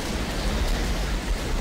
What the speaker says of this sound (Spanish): antes lo digo y antes se pone a llover